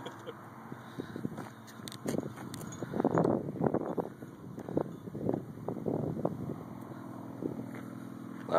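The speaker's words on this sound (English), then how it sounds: "A lot of bikes out today." Motorcycles passing by outdoors, engine roars rising and fading one after another in the middle of the stretch, with wind buffeting the microphone.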